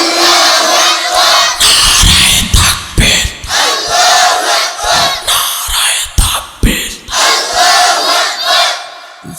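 A large gathering at a Bengali Islamic sermon roars Allahu Akbar in unison in answer to a takbir call, loud massed shouts rising and falling in repeated waves.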